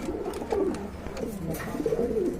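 Rajgolla pigeons for sale give soft, rolling coos in a few repeated phrases, close by and fairly quiet.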